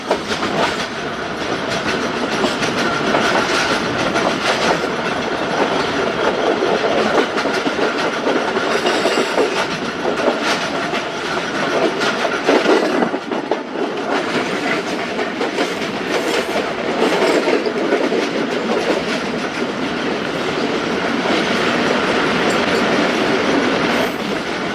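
A train hauled by a locomotive runs past on the down line, a loud, sustained rumble with rhythmic clickety-clack of wheels over rail joints and occasional wheel squeal, close by throughout.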